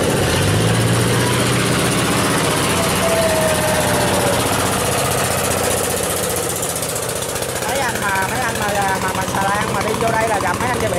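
The engine of a small wooden boat on a narrow river drones loudly and steadily at close range as it passes, with a high, buzzing tone that stays strong throughout.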